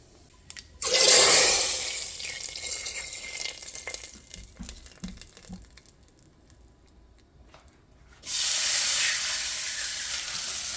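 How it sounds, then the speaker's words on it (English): Water poured into a pot of cooking dal, a near, broad rushing splash lasting about a second, followed by quieter simmering and clatter, then another sustained pour of hissing liquid near the end. "I just added a little bit of water."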